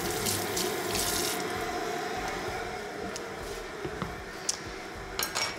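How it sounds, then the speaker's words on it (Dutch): Pointed peppers are rinsed under a running kitchen tap, a steady close rush of water with a few light knocks and clinks toward the end. "Paprika spoel ik ook even af."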